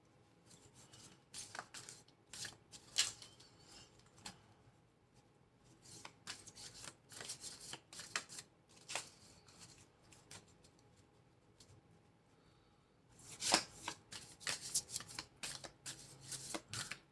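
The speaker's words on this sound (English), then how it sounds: "these cards are not the easiest to shuffle." A deck of tarot cards being shuffled by hand in irregular bursts of crisp riffling and flicking, close and quiet, with short pauses between shuffles.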